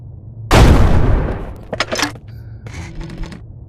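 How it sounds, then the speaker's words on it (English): Gunfire in the VR shooter game Shotwood: one loud, close blast followed by a few sharper, quieter shots and clicks that trail off, with no talking. "Let's shoot from up here."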